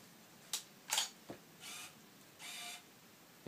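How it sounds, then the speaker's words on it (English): A Canon 600D DSLR fitted with a battery grip from China gives a few sharp mechanical clicks, then two soft whirring bursts as the autofocus hunts, all quiet and close in a still room. "You can hear it try to focus when I press it."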